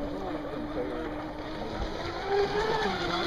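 Radio-controlled model float plane engine accelerating at an outdoor float-fly event on water, a steady, high buzzing drone rising in pitch toward the end, with wind noise and faint voices around it.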